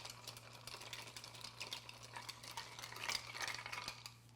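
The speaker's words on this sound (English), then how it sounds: "We'll give this one more little stir." A bar spoon stirs a Sazerac cocktail in a mixing glass, giving faint, rapid clinking and scraping ticks in a steady rhythm, close and quiet, with a low background hum.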